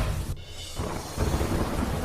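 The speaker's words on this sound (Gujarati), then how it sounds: "શહેર અને આસપાસના વિસ્તારમાં ધોધમાર વરસાદથી ખેડૂતોમાં ખુશી." Heavy downpour in Amreli district, Gujarat, roars as a dense continuous hiss, with a deep thunder rumble rolling underneath throughout the short stretch.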